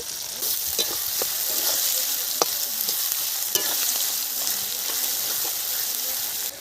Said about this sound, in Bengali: কালো জিরে ফোড়নে দিলাম। এখন দিয়ে দিচ্ছি পেঁয়াজ। পেঁয়াজের মধ্যে একটু নুন দিয়ে দিচ্ছি।